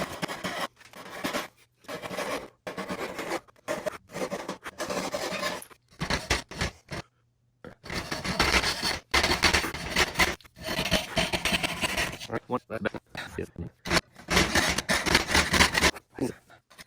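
A thin-bladed saw bends and curves its cut through wood, the blade rasping in repeated bursts of strokes with brief pauses between them, close and fairly loud.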